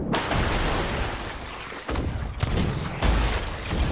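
Ship cannons fire in a rapid volley during a Sea of Thieves naval battle, a dense roar of booms with several sharp new blasts on top of the rumble.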